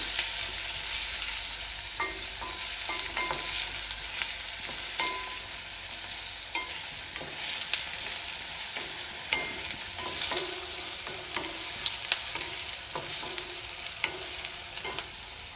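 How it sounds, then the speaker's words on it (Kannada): Chopped onions frying in a pan for kadalekalu usli, with a steady close sizzle throughout and frequent light scrapes and taps of a stirring spoon, with no talking. "ಈರುಳ್ಳಿನ ಹಾಕ್ಕೊಂಡ್ಮೇಲೆ ಒಂದು ಎರಡು ನಿಮಿಷ ಈರುಳ್ಳಿದು ಹಸಿ ವಾಸನೆ ಹೋಗೋವರೆಗೂ ಇದನ್ನು ಚೆನ್ನಾಗಿ ಫ್ರೈ ಮಾಡ್ಕೊಳ್ಳಿ"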